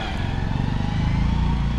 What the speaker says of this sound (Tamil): My bike is coming out sir.